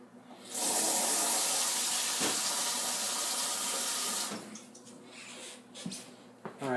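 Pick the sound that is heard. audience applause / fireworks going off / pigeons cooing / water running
water running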